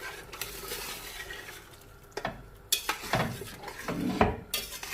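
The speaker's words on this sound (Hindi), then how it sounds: "अब हम इसमें ऐड करेंगे दाल, मिक्स करेंगे अच्छी तरह से" Lentils stirred into cooked mutton in a pot, with metal spoon scrapes and clinks against the vessel over a faint frying sizzle, close, irregular and louder toward the end.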